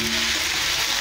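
Mixed vegetables with eggplant and bitter gourd sautéing in a pan, giving a brief, bright, dense sizzle heard up close.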